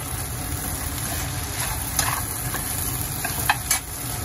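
Okra (bhindi) cooking in a pan on a gas stove: a steady sizzle under a low background hum, broken by a few scraping stirs of the spoon against the pan.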